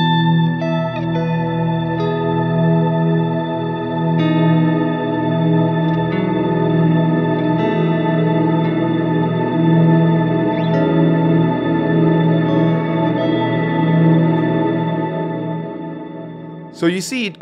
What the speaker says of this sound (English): So you see, it creates a nice pad, but it can become very chaotic if you play too much on top